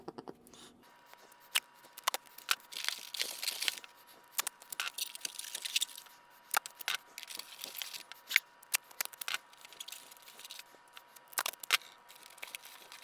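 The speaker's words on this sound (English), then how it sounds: "We're gonna need some tape." Duct tape being pulled off the roll and cut in short bursts while fitting a homemade ice chest air conditioner, with sharp ripping and snipping sounds scattered irregularly and close by.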